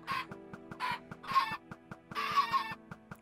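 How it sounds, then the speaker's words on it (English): Chicken clucking in a Minecraft-style block-building game, with repeated short cluck bursts in an uneven rhythm over a steady ticking, pulsing game background; no talking. "that chicken's probably gonna die"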